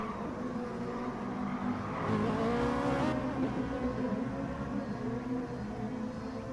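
Race cars in a sim racing video game, engines droning and revving steadily as they run on track, a continuous mid-level roar with slight swells, no voices.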